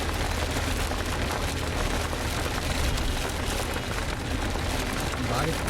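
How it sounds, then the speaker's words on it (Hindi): Heavy rain drums on the roof of a Mahindra Thar during a drive, a dense, continuous hiss and patter that fills the cabin at a steady, loud level. "जो टॉप पे पानी गिर रहा है उसकी आवाज़ आ रही है।"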